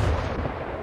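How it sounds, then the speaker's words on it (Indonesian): Artillery bombardment in the tank video game Modern Assault Tanks: a single heavy, booming low blast that rolls out and fades over about a second, loud and close, with no talking. "We are under bombardment."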